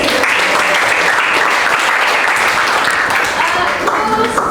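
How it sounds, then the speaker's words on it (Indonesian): Classroom applause from a group of students: vigorous, continuous clapping close by and loud, filling the whole span with faint voices underneath. "Oke, tepuk tangan."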